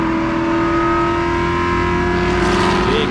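A big pack of race cars in the GRIDLIFE Touring Cup at Road America roars toward the first corner three wide, engines droning loud and steady with a rising whine near the end and no voices over it.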